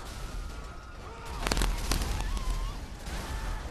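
Explosions in a video game played on a new gaming/VR rig, several loud booming bursts packed together mid-clip over a steady rumbling background, with a faint game tone beneath.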